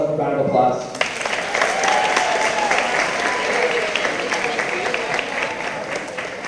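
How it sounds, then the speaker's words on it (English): An audience at a school award ceremony breaks into loud, sustained applause, a dense, steady clapping that follows a spoken announcement. "One more round of applause."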